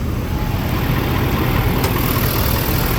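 A Ford F-350 pickup's 6.7-liter Powerstroke diesel engine idles with a steady, dense rumble, heard close and continuous with no talk.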